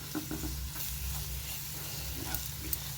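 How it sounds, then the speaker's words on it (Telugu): Mutton is stirred in a hot pan with coriander powder and salt, and a constant sizzle sits under repeated soft scraping strokes from the spoon, heard close and steady. "ఇవన్నీ ఇలా మంచిగా కలిసేటట్టు కలుపుకోవాలి."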